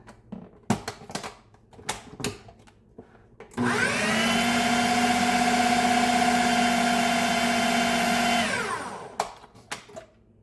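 A kitchen blender whirs loudly for about five seconds, mixing batter with milk, its steady motor whine starting abruptly and winding down, framed by clunks and knocks before and after.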